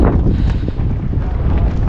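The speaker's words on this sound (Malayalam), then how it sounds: "നല്ല രീതിയിൽ കാറ്റുണ്ട്" Wind sweeps across Umling La, the world's highest motorable pass at about 19,024 feet, buffeting the microphone with a steady, gusty low roar and rumble throughout.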